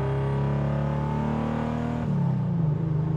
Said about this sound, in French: T'entends déjà un peu le turbo là, t'as vu? Le bruit il est incroyable.